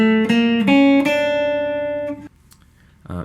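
An electric guitar plays a short jazz-rock line of sustained single notes that slide through chromatic approach tones, ringing clearly for about two seconds before a brief pluck at the end.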